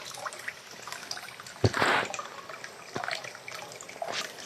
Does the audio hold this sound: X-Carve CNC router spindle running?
no